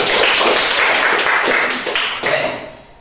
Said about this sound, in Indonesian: Berikan tepuk tangan untuk Alwi